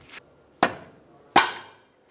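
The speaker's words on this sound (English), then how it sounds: "we can come back with a little rubber mallet," Three sharp taps of a small rubber mallet seating a bolt into the engine torque strut mount bracket of a 2007-2015 Mazda CX-9, spaced irregularly, close and crisp with short decays.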